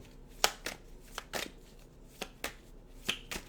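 Tarot cards being shuffled, a series of sharp riffling bursts and snaps at irregular intervals, close and fairly quiet, with no talking.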